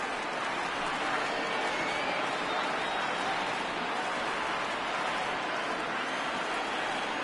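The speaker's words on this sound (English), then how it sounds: "Crowd gets up for the 3-2" A baseball stadium crowd in MLB The Show 19 roars in a dense, continuous wash of cheering that holds evenly from start to finish.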